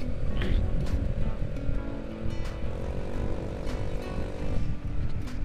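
A Honda Beat scooter fitted with an RCB exhaust accelerates with a steady, smooth engine drone, loud and close throughout, with no voices over it.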